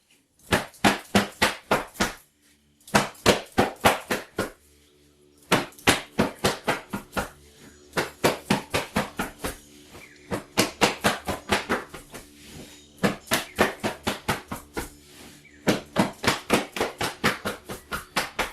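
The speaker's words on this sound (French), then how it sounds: "On va frapper de part et d'autre les jambes." Hands briskly slap both sides of the legs during a qi gong evening stretching routine, a close, crisp series of rapid rhythmic pats grouped in runs with short pauses between, and no talking.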